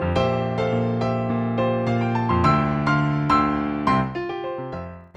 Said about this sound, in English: Now what you're hearing is the sound of the Yamaha Full Concert Grand.